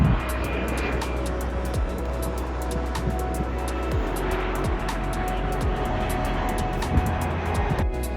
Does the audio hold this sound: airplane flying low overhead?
yes